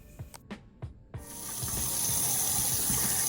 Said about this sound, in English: The ink comes off easily just under running water.